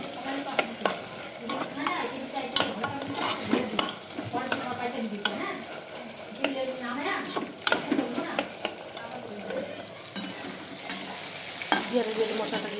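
Chicken pieces with papaya sizzle steadily in a hot pan while a utensil stirs and scrapes through them in repeated close strokes, with no voices.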